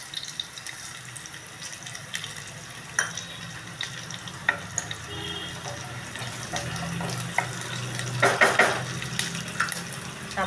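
Cumin seeds sizzling in hot oil for sabudana khichdi, a steady close frying hiss with scattered pops and a few stirring scrapes, no talk.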